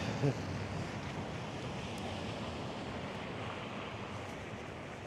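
Strong outdoor wind roars continuously against an umbrella and buffets the microphone, a broad, steady rushing noise with no pauses.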